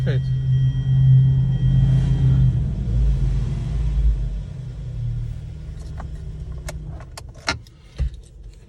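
A 2012 Hyundai Sonata engine idles steadily just after starting, a close, low rumble. Keys jangle and sharp clicks follow toward the end.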